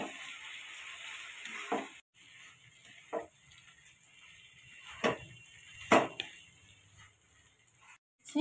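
Veg chow mein being stir-fried in a pan with green chilli, soy and tomato sauces: a quiet steady sizzle broken by several sharp scraping and tossing clatters at irregular intervals.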